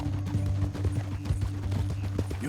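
Horse hooves clip-clopping in Red Dead Redemption 2, a steady rhythmic trot of muffled thuds continuing throughout at moderate loudness over a low background drone.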